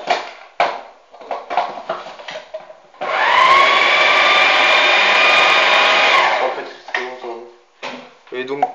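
A bakery kneading machine fitted with its blade runs empty without water before croissant dough is mixed, a loud steady motor whine lasting about three seconds, with people talking before and after it.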